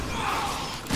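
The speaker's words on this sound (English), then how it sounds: "Oh, I got shield bashed." A shield bash hit in the co-op Mercenaries mode of Resident Evil 6 lands as a loud, dull impact thud within a dense wash of game noise, followed by another heavy thump at the end.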